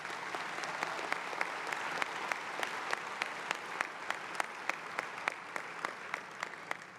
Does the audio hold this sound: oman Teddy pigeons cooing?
no